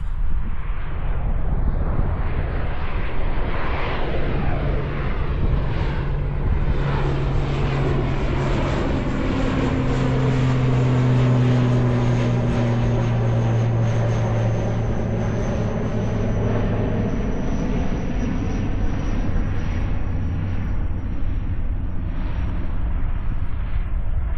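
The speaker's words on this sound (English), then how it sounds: "let's actually get the aircraft" An aircraft passes at an airport, a loud broad engine roar that swells and then slowly fades over about twenty seconds, with a falling whine as it goes by.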